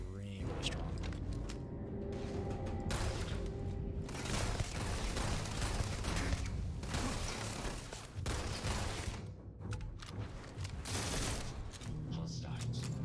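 Rapid gunfire from a powerful weapon in the space game Starfield, sustained bursts with booming impacts and mechanical clatter throughout, overlaid with game sounds and a voice talking.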